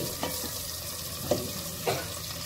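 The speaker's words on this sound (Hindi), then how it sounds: "अब देखिए हमने इसको तेल को गर्म कर लिया, अब हम इसमें डाल देंगे प्याज।" Onions dropped into hot oil for chicken kofta curry hiss in a steady, close, continuous sizzle, with three soft stirring knocks spaced through it and no talking.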